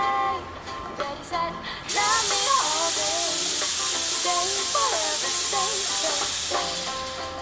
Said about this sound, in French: Nous avons la fumée.